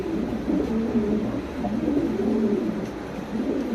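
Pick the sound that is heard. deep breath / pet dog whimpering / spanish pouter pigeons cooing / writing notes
spanish pouter pigeons cooing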